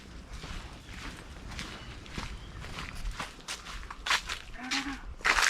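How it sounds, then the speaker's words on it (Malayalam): Cattle move along a forest track in a bird sanctuary, with scattered hoof thuds and rustling footsteps nearby and a brief low animal call near the end. "കുറെ പശു അതിലുണ്ട്. വൈൽഡ് പശു വന്നു."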